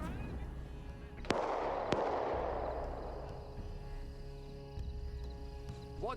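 A tank cannon fires in an Arma 3 World War II battle, a sharp booming blast followed by a long rolling rumble, then a second crack, with faint radio chatter in the background.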